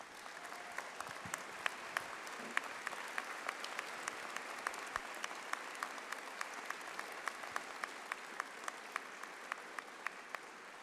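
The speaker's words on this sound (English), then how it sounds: "please stand and show your appreciation to our faculty by giving them a round of applause." Graduating students at a university commencement give a long round of applause, a fairly distant, steady mass of clapping with sharper individual claps standing out.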